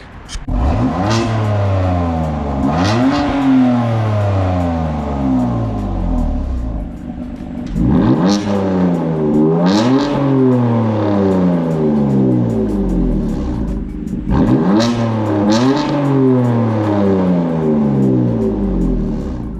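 A BMW M4 engine and exhaust revving hard three times in succession, each rev climbing sharply in pitch then falling away, loud and close with a raspy, tinny tone and no talking.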